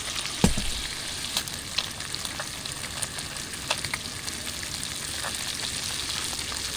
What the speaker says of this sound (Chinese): 爆香一下就好了。